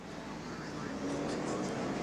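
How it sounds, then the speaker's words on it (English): Pace car lapping at about 40 mph during the 2001 NASCAR Save Mart 350 at Sonoma, California, heard as a steady engine drone that swells slightly, under a muffled broadcast voice. "Pace car, right about 40 miles an hour."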